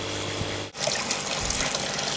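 Water pours steadily into the second tank of an aquaponics system, returning from the grow towers, a close continuous splashing rush with a brief dip partway through.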